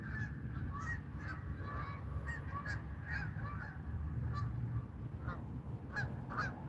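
Flock of geese honking as they fly in over a trout fishing spot, repeated overlapping calls at moderate distance over a steady low rumble of wind or ambient noise.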